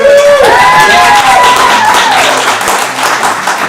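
A theater audience bursts into loud, wild applause and cheering, dense continuous clapping filling the room up close, with a whistle-like tone rising early on.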